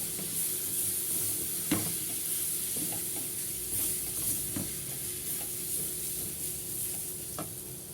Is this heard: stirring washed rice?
yes